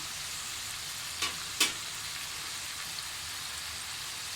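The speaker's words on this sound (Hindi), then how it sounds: "मसाला भूनने में कंजूसी नहीं करनी, मसाला अच्छे से भूनना है" Spice masala frying in a pan for an arbi (taro root) curry gives a steady, fairly quiet sizzle throughout, with two brief louder stirring scrapes near the start.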